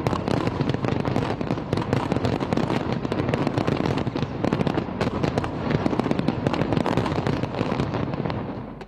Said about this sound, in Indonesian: kembang api yang mengesankan ditampilkan di atas sungai